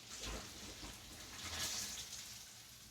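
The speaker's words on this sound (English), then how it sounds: "we're simply going to drain the water" Pasta cooking water drains through a colander into a sink in a home kitchen, a steady splashing gush over about three seconds, fairly close and unaccompanied by talk.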